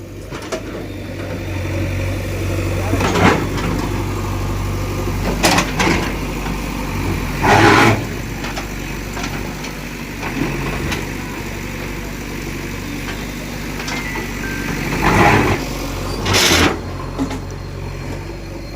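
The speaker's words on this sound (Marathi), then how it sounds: "जो हायड्रोलिक कटर होता त्याच्या साह्याने हे बोल्ट कट करण्यात येणार आहे" A hydraulic cutter's steady mechanical engine hum runs throughout, with several louder bursts of grinding noise rising above it at intervals as it cuts through bolts.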